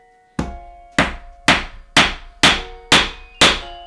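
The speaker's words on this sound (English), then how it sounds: "Give it a couple good whacks, and there you go." A hammer drives nails into wood while a design is fixed onto a wooden board for textile and wood art, seven sharp close whacks at a steady rhythm.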